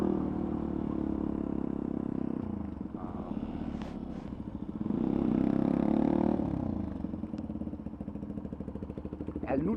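A motorcycle being ridden, its engine droning loud and close throughout with a rising surge of revs near the middle. Wind rumble runs underneath and there is no clear talk.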